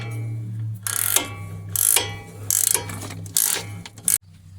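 A ratchet tightening bolts on the brakes of a 2013 Ford Fiesta, with several quick bursts of loud, close clicking separated by short pauses over a steady background hum.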